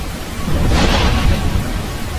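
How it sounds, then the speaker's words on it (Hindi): A loud thunder crack during heavy rain on a dark, moonless night: a steady broadband hiss of downpour swells into a rolling, rumbling burst near the middle, then eases back into rain, with no voices. "उसी वक्त जोर से बिजली कड़कती है"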